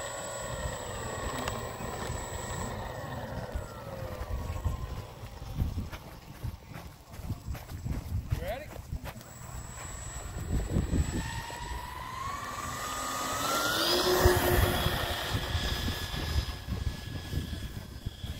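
A Dynam B-26 Marauder twin-engine RC warbird with flaps takes off, its electric motors holding a steady buzzing whine that rises and shifts in pitch as it rolls down the runway and climbs, moderately close and without talk.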